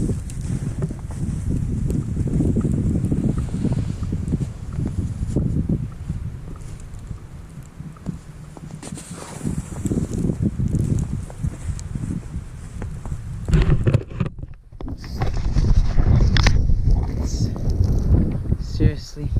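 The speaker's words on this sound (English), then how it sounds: "a big storm. It's a blizzard." Blizzard wind during a big snow storm, a continuous loud roar with heavy microphone buffeting that surges and eases over the whole stretch, with someone speaking briefly under it.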